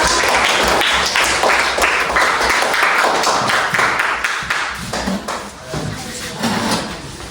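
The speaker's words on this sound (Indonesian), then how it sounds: "Ya, tepuk tangan semua ya." A class clapping together in a classroom, a fairly loud, dense patter of hands that continues steadily and thins slightly toward the end.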